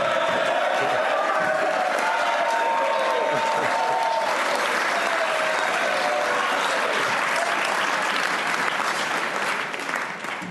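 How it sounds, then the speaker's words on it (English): Sustained, loud applause from an audience fills the hall at Virginia's 2017 State of the Commonwealth address, steady throughout with scattered cheers mixed in. "great round of applause"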